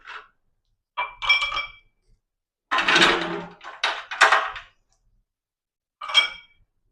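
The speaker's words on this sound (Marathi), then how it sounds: "त्यामध्ये मस्तपैकी आईस क्यूब्स घालायचे." Ice cubes drop into a glass of orange squash, several sharp glassy clinks in short bursts separated by silence, close and clear.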